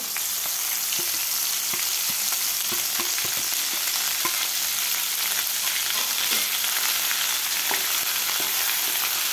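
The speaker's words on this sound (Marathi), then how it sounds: "आता हे मसाला आपल्याला व्यवस्थित परतायचा आहे तेलामध्ये 2 ते 3 मिनिट" Masala and curry leaves frying in hot oil over medium heat for a bitter gourd curry, a loud, dense, unbroken crackle of sizzling with faint stirring ticks, no voices.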